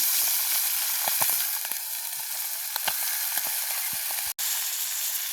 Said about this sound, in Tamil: கணவாய் பொறிக்க எங்களுக்கு பிடிக்கும் அதால் நாங்கள் மூடித்தான் பொறிக்கணும்